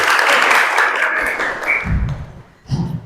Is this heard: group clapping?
yes